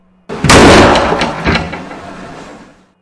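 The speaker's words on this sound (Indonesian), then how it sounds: "budenya sudah menutup pintu dengan keras" A door slams shut hard in a house, one loud sharp bang that rattles and fades over about two seconds, heard alone.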